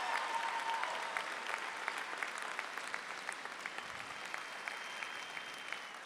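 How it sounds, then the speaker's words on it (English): Steady applause from a large crowd at a college commencement ceremony, a continuous wash of clapping that holds evenly throughout, heard from a distance in a big room. "just a round of applause for the staff at the college who have helped you through your journey."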